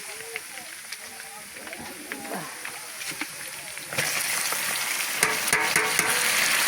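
Onions and meat frying in oil in a pan, a continuous sizzle with stirring scrapes that grows louder and hissier halfway through, with a person talking over it.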